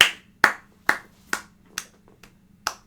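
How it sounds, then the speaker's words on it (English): Hands clap slowly and evenly, seven sharp, close claps about half a second apart, with the later ones a little softer, over a faint background hum. "Let's clap."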